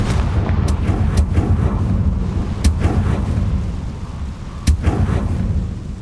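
Explosive Confringo spell in the video game Hogwarts Legacy, heard as a continuous low rumbling roar with several sharp cracking bursts scattered across it, loud and without speech.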